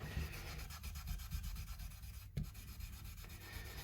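Wire wool rubbed back and forth across the frets of a cheap learner Stratocaster-style electric guitar, a steady soft scratchy scrubbing with rhythmic strokes and a brief louder scrape near the end.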